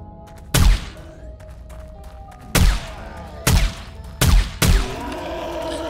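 Gunshots from a gun in 7 Days To Die, five loud, sharp blasts at irregular intervals, each with a short booming tail, close and distinct over a low background hum.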